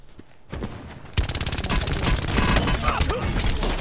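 Gunfire in the battle-royale mode Blackout of Call of Duty Black Ops 4: rapid automatic bursts break in suddenly after a quieter opening, then keep up as loud, dense, continuous shooting.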